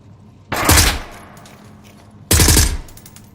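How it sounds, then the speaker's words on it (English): Two loud bursts of full-auto gunfire from a rifle in the VR shooter Onward, each burst lasting under a second, separated by a short quiet gap. "I'm gonna go full auto on this one, so I'm gonna be shooting more rounds at the enemy"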